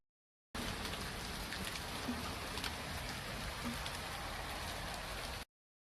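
Hailstorm pelting cars and hard surfaces during severe flooding in Gansu, China: a dense, steady hiss of hard impacts that holds at an even level for about five seconds, with no voices.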